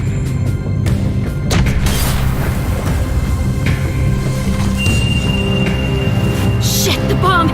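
Bomb blast in The Walking Dead video game, a loud booming crash with debris and rumbling that sustains over several seconds, set against a dense game soundscape.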